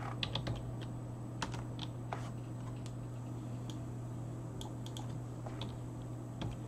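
Typing on a computer keyboard at a Windows 10 command prompt: a quiet, irregular run of light clicks over a steady low electrical hum, with no talking.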